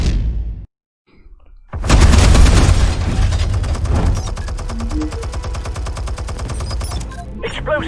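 Gunfire in the Batman: The Telltale Series video game: after a brief silence, a loud burst of rapid automatic shots erupts, then continues as dense rattling fire with scattered impacts until the end.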